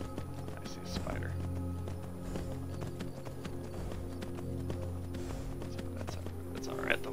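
Steady clip-clop of horse hooves trotting along in the video game Skyrim, with a low hum of background music and a voice talking over it.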